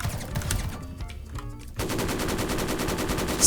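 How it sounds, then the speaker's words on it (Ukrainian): Rapid automatic gunfire in a Roblox military tycoon game, a fast steady stream of shots that starts after a brief muffled moment and keeps going loudly. "Стріляю, стріляю, стріляю, стріляю."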